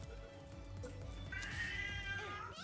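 A cat meowing in the video game Palworld, one drawn-out wailing meow that swells and rises, heard close and fairly loud over a low game hum.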